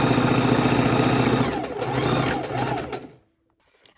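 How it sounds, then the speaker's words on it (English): A sewing machine stitches a quilt's triangle border with a fast, steady mechanical whir that runs for about three seconds, then stops abruptly, leaving near silence and a small click at the end. "and sewing it across."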